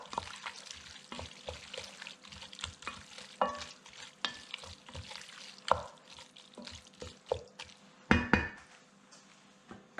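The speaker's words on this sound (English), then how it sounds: "And mix it all together." Friday-night pasta ingredients are stirred and mixed in a pan, with steady scraping and clinking of a utensil over a soft sizzle and a few sharper knocks against the pot.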